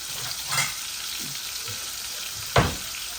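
Koi fish frying crisp in a pan with chili, garlic and onion, a close, continuous sizzle broken by a couple of louder spattering bursts, with no voices.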